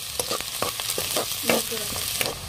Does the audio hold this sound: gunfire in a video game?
no